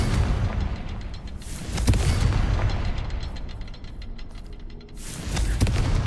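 A Confringo blasting spell explodes in Hogwarts Legacy with deep, rumbling booms, one swelling burst followed by a longer rolling blast and another at the end, loud and close with no talk over it.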